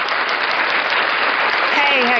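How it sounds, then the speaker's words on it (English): Studio audience applause greets a podcast guest as a steady, wash-like roar of clapping, even and continuous, with faint talk and tones emerging toward the end. "Applause, people."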